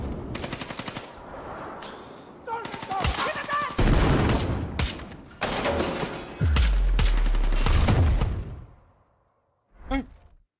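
Video game gunfire, including machine gun bursts and single shots, loud and close in rapid clusters, followed by a short pause and one last isolated burst, with occasional voices mixed in.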